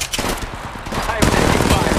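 Rapid automatic gunfire from Apex Legends Mobile, a steady rattling burst that grows louder and denser partway through, with faint game voice lines beneath.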